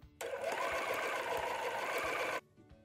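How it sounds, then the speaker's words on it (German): A sewing machine runs a single steady stitching burst of about two seconds along a folded fabric strap, close and clear with no talking. "Einfach zweimal nach innen bügeln, dann ist es schön glatt und einfach einmal drüber nähen."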